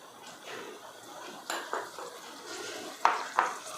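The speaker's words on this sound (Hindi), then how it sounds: "सभी चीज़ों को अच्छे से हमें मिक्स करना है" A spoon stirs sugar, ground clove, dry ginger, black pepper and honey in a pan for ginger-honey lollipops, soft scraping strokes with a faint sizzle and two sharp metal clinks near the end.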